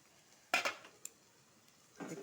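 A metal lid lifted off a pot of taro and soybean curry gives a brief clatter, a short clink follows, then a softer scrape of metal near the end, all close and with no talking.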